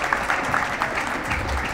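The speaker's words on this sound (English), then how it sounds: "Nice applause for them." Crowd applauding at a high school boys' varsity basketball game in a gym, a steady wash of clapping from many hands at moderate loudness, sounding fairly distant and sustained throughout.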